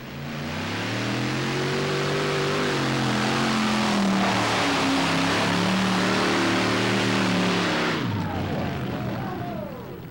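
A big block alcohol-fueled tractor pulling engine roars at full throttle, its pitch rising and falling through long revving sweeps before cutting off abruptly near the end, leaving a fading rumble.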